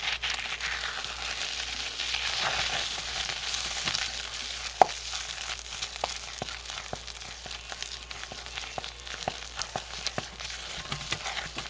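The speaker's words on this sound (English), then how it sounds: "Let's give them a stir." Homemade lye soap is stirred in a pot, giving a soft continuous churning hiss dotted with irregular light clicks and scrapes of the utensil against the pot, with one sharper knock midway.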